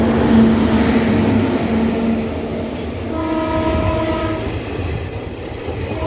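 A Kochuveli–Nagercoil passenger train in Kerala rumbles steadily along the track, and a sustained horn blast sounds across the first couple of seconds before fainter tonal blasts follow, all under a constant low roar of rolling wagons.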